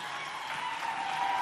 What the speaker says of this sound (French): Applaudissez-les, ils méritent bien quand même.